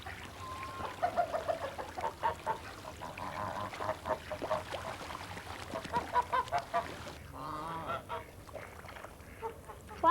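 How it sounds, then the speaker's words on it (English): A flock of farm geese honks repeatedly at mid distance, noisy overlapping calls that thin out near the end with a softer grunting sound, and no voices. "I've got lots of geese too, you see."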